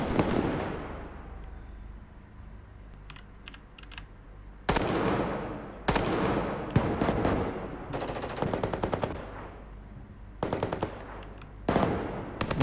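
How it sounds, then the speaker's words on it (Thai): Gunfire in a Roblox game with a realistic weapon-mod map: sharp, loud shots ring out in quick rapid-fire bursts and single cracks, each with a decaying tail, spaced irregularly over several seconds. "ดูมันยิงดิ ดูมันยิงดิ เรียบร้อยหนึ่งศพ"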